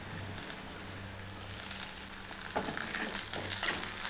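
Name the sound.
shallots sautéing in a pan for garlic pepper kuzhambu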